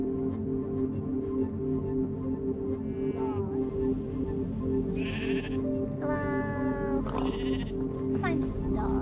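Sheep bleat in the Minecraft video game, several short, nasal cries scattered across a few seconds over a steady droning background of game music.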